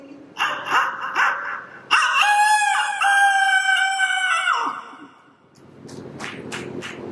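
A standup mimicry artist voices a rooster's morning crow: a short clucking lead-in, then a long, loud, rising and falling cock-a-doodle-doo, followed by quieter clattering noise.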